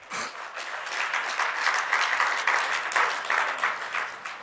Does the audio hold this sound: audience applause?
yes